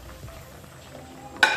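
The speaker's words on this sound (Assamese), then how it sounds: "এয়া কেঁচা জলকীয়া দিছোঁ।" Fresh green chilies go into a pan of sizzling boil fish for a bamboo shoot curry: a low, steady frying hiss ends in one sharp metallic clink.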